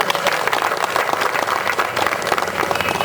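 Steady applause from an audience at a Sri Devi Bhudevi sametha Balaji kalyanam wedding ceremony, dense and continuous clapping filling the space without pause.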